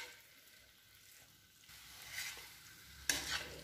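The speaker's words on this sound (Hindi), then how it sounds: "मसाले डालने के बाद गैस की फ्लेम को बिल्कुल लो कर देना और इन्हें मिक्स कर लेना अच्छे से" Spices fry in a pan over a low gas flame for a spinach and potato dish, giving a soft, close sizzle with scraping stirring strokes and a sharper scrape near the end.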